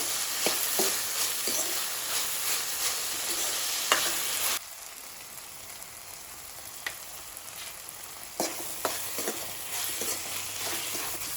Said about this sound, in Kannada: ಈಗ ಹೆಚ್ಚಿಟ್ಕೊಂಡಿರುವಂತಹ ಮೆಂತ್ಯ ಸೊಪ್ಪನ್ನು ಸೇರಿಸ್ಕೊಳ್ತಾ ಇದ್ದೇನೆ. ಇದನ್ನು ಒಂದು 5 ನಿಮಿಷ ಫ್ರೈ ಮಾಡ್ಕೊಳ್ಬೇಕು.